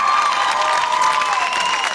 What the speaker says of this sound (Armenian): Եվ ծափարությունը ևս մեկ անգամ։